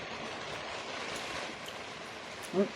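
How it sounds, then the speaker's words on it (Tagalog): Steady rain falls in a dense, even hiss of drops, with one brief louder knock near the end. "Ang ulan. Sarap."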